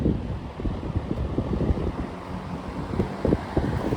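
A vintage 1966 Dominion box fan with a steel blade runs steadily as its motor winds down toward low speed, giving a continuous close-up whooshing, rumbling hum with a slightly uneven flutter.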